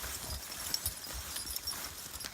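Horses walk on a ranch, their hooves clip-clopping in an uneven, plodding rhythm of close, distinct thuds, with no voices over them.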